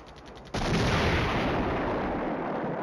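Artillery fire in the war game Flashpoint Campaign Red Storm: a sudden heavy blast followed by a sustained roaring rumble of shelling, loud and continuous, with no voices.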